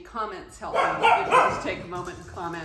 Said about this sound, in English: You can hear him barking in the background.